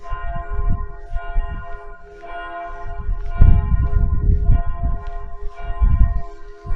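A church bell in Limburg an der Lahn, Germany, rings loudly and repeatedly, each strike ringing out with a rich, lingering tone over steady background noise.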